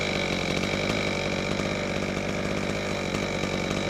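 A saw cuts small trees, including pine, right down close to the ground, running as a loud, steady engine drone with a buzzy rasp that holds throughout.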